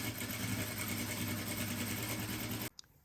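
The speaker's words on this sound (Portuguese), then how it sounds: "vamos fazer uma costura em cada um dos lados para poder fechar esse tecido e tornar ele uma fita" A sewing machine runs a continuous loud seam along both sides of a fabric strip for a bag, humming steadily for nearly three seconds before stopping abruptly with a faint click.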